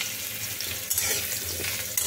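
Chopped potatoes and carrots fry in a pan with chillies and five-spice, giving a continuous moderate sizzle broken by a couple of louder stirring scrapes.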